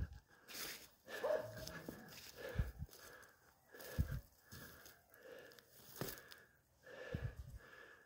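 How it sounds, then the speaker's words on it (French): A gentle hunting dog snuffles, sniffs and gives soft low whimpers and huffs at close range, in quiet irregular bursts with brief pauses between. "C'est un chien qui est très gentil aussi."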